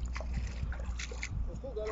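People wade into water with a few light splashes and sloshes, close by, mixed under people talking.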